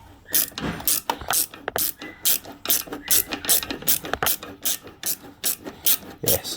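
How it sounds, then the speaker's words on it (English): A ratchet fitted with a 6mm socket undoes a bolt during gearbox removal on a Polaris Ranger 570 EFI, giving a steady run of close, loud clicking bursts in a quick back-and-forth rhythm. "So I've used a 6mm socket for this one."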